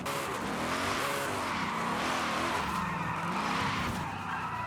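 A car drifts in Forza Horizon 5, its tires squealing loudly and steadily over a revving engine, with the pitch of the screech wavering as the slide goes on.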